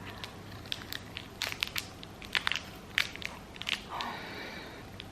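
Someone chewing a dry, crunchy snack close up, with irregular crisp crunches and crackles in bursts over a quiet background, no talking.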